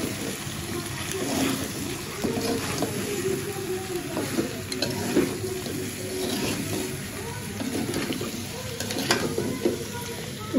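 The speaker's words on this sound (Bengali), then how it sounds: "আর 1 থেকে 2 মিনিট কষাবো" Goat meat with potatoes is being dry-fried kosha-style in a pan, a continuous close sizzle with regular scraping stirs throughout.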